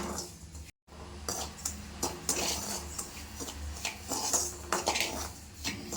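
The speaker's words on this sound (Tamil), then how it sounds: "இந்த ரவை இதில் போட்டுக்கலாம். அடுப்பை சன்னமாக வச்சு இது வறுத்து எடுத்துக்கலாம்" Semolina roasting in a pan on low heat, stirred with a utensil that scrapes and clinks against the metal in irregular close strokes, fairly quiet, with no talking.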